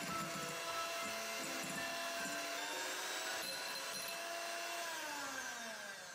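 An electric mixer on its lowest speed beats batter for a cheddar cheese sponge cake, giving a quiet, steady motor whine whose pitch drifts gently as it works.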